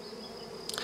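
Honeybee colony buzzing steadily at close range during a hive inspection in June, a sustained drone with a few sharper bursts near the end.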